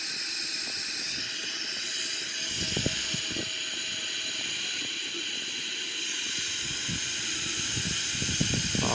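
A steady, broad roar of Boeing 777-300ER jet engines in a flight simulator during climb hisses continuously throughout, with faint scattered clicks and thumps underneath.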